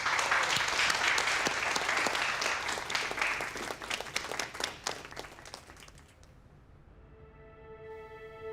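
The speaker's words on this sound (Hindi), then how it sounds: "करीम उस्कान के लिए तालियां।" An audience at a stage event breaks into loud, dense applause that keeps going for several seconds, then thins and fades out. A steady musical tone rises as the clapping dies away.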